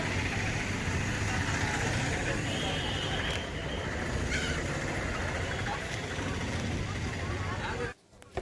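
Motorbikes and other traffic rumble steadily around a crowded gate at a busy festival ground in Jorhat, with engine noise and crowd babble filling the scene until it cuts out near the end.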